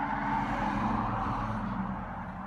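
Cars passing by on a road, a steady broadband traffic rumble that holds throughout and eases slightly toward the end, with no clear single pass-by.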